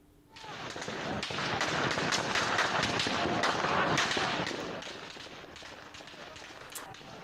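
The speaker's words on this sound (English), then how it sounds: "that's people running for cover as gunfire erupts" A rapid burst of gunfire crackles for several seconds, dense and chaotic, then fades to scattered pops amid background commotion.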